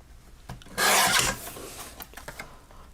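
Paper strip trimmed off a greeting card, a short close rasping slide of a trimmer blade lasting about half a second, with faint handling rustles before and after.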